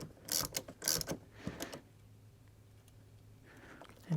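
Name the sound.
wrench tightening a car AC service port valve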